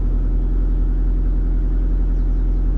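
An SR20DET engine swapped into a BMW E30 idles steadily as it warms up, a loud, even, low rumble running unbroken throughout with no voices.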